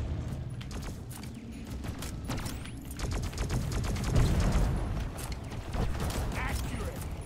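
Rapid turret gunfire in a video game, dense bursts of sharp cracks stacking into a rattling fusillade that swells and fades, with voices talking over the shooting.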